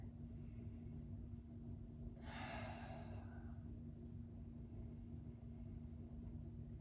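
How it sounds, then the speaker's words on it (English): During a yoga session, a single breath is drawn in for about a second as an airy, breathy whoosh over a low constant hum, with no other voices. "Breathing here."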